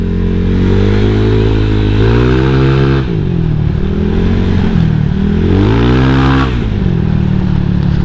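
A motorcycle engine revs and accelerates loudly up close, pitch rising and falling through two strong pulls with no talking.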